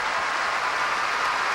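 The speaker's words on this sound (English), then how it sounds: "Can we get some applause here" A studio audience breaks into a short, dense burst of clapping during a live sports radio show, steady and fairly loud, with no talk over it.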